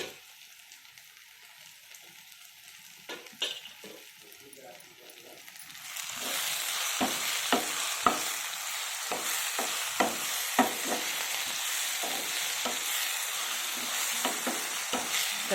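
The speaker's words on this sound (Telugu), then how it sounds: "పోపు వేగుతుంది కదా" Spices for raw mango pulihora tempering fry in hot oil, a steady loud sizzle that surges in after a quieter start, with occasional stirring clicks throughout.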